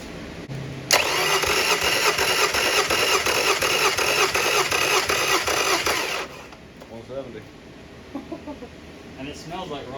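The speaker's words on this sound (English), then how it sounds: "Okay, guys, here goes cylinder 2. Threading in the tester." Yamaha 50HP outboard engine cranking over with a compression tester threaded into cylinder 2, a loud steady starter churn lasting about five seconds before cutting off, followed by quieter background sounds.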